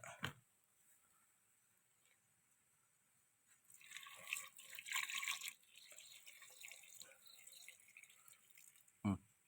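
Water is poured into a cooking pot for a potato curry, making a soft splashing pour of a few seconds midway, with faint drips before and after and a brief knock near the end.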